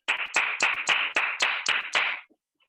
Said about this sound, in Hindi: शानदार तालियों के बीच द युवा leader mister Bhishma Singh Chandel from दमदा